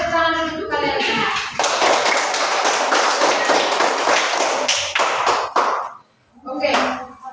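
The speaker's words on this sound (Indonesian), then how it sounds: "Oke, tepuk tangan dulu untuk kalian semua." Students in a classroom clap together in a loud burst of applause that lasts several seconds, then dies down before a teacher's voice comes in.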